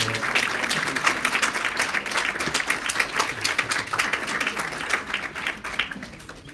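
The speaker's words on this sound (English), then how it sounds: "How about a big round of applause for our boss in the background" A conference audience at a rural poverty research session breaks into sustained applause, many hands clapping in a dense, even patter that carries on for several seconds before easing slightly at the end.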